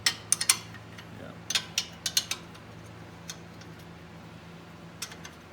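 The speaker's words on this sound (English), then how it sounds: "I'm gonna actually have to get my ratchet" A ratchet works on 14 mm bolts during a Honda yoke joint boot repair, giving quick bursts of sharp metallic clicks with pauses between strokes.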